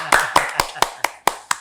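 Seven sharp, close hand claps in an even rhythm about a quarter second apart, loud and distinct, with a faint voice murmuring between them.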